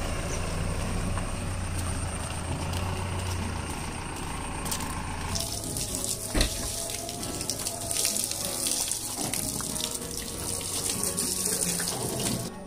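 A car being washed sends a steady, loud spray of water hissing throughout, growing brighter and more splashy after the midpoint, with no talk over it.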